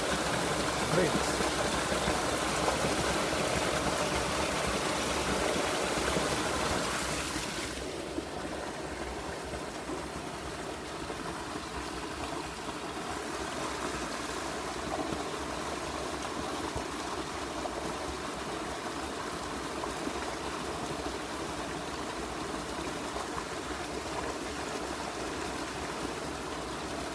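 A river flowing underneath a house gives a steady, faint rushing of water that grows quieter after the first few seconds and then continues as a low, constant murmur with a faint hum beneath it.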